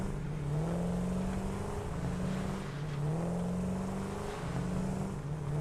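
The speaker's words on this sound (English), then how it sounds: "we'll take a look and see where the truck is going" A truck drives through a factory in the video game Satisfactory, its engine giving a steady, droning hum with rising and falling tones, alone and fairly loud throughout.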